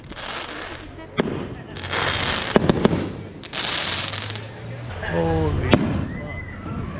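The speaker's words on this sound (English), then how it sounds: "we rushed outside to see an incredible fireworks display" Fireworks display bursting outdoors at night in Mazatlan, Sinaloa, with repeated loud booms and sharp cracks over a constant crackling rumble, while a person exclaims amid the blasts.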